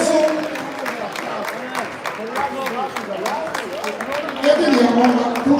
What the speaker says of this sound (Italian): Facciamo un applauso a Lena Carazza, Arte Box Solisino, Jackson Quadrato,